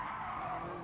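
Tires skidding and squealing under late, hard braking in Gran Turismo Sport, a steady loud screech held through the whole moment with engine noise beneath.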